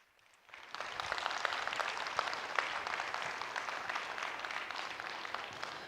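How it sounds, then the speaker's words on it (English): A TEDx audience in Oneonta bursts into applause for a speaker as she is welcomed to the stage, a dense, steady wash of many hands clapping that swells in after a brief quiet start and holds strong. "That grand round of applause?"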